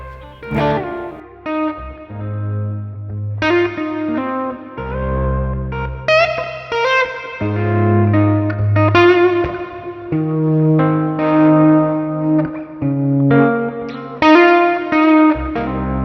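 Electric guitar in D5 tuning, chords ringing out with effects, strummed and let sustain in a slow sequence, the notes clashing slightly with a shimmering, echoing tone.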